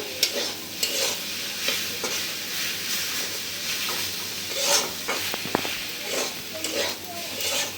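A mash sizzles in hot mustard oil while a spatula stirs and scrapes the pan, with occasional clinks of metal on metal.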